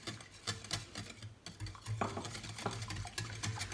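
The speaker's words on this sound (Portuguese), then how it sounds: "Vamos mexer um bocadinho" Apple pie filling with lemon juice, zest, cornstarch and butter is stirred in a pot, giving a steady run of soft scraping and light utensil clicks against the pot, close and fairly quiet, with no talking.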